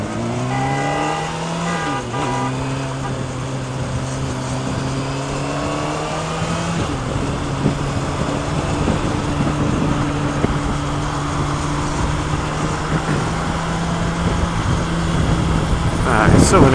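A motorcycle, an FZ-07 or CBR600RR, ridden on the road, its engine droning steadily and shifting pitch as it changes gear, under constant wind rush.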